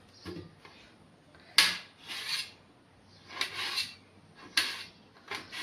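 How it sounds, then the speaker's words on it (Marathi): A knife cuts peeled potatoes into small pieces with repeated rasping strokes and board knocks, coming in irregular bursts at close range with soft handling noise between them. "आता ह्याला मी बारीक बारीक कापून घेते"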